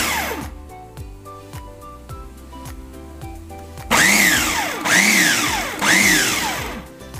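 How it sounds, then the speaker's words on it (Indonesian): An electric food chopper blitzes shallots and chilies for a tuna sambal. Short motor pulses with clicks come first, then three loud whirring bursts that each rise and fall in pitch. "Sambil menunggu ikan tongkol ini masak, kita chopper bawangnya sama cabenya dulu"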